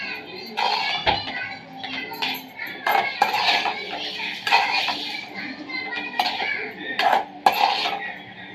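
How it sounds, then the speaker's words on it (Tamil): Chicken fried rice stirred in a pan, with repeated clanks and scrapes of a metal spoon against the pan in an irregular rhythm, close by, while a voice talks intermittently. "இந்த மாதிரி நல்லா கிளறி விட்டுக்கணும்."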